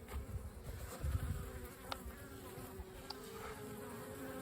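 Honeybees drone in a low, steady buzz at the entrance of a strong spring hive as foragers carry in pollen, with a faint, continuous, close swarm hum and no talking.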